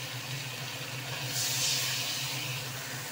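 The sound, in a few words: spice-rinse water poured into frying ginger garlic chilli paste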